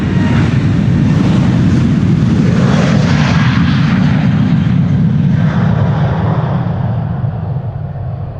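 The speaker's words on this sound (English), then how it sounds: "This is KLM flight 927 to Edinburgh, one of the 737-800s with Wi-Fi on board by the looks of it." A KLM Boeing 737-800 departs Amsterdam Schiphol, its loud jet engine roar rising to a strong rumbling peak and then slowly fading as it climbs away, with no voices present.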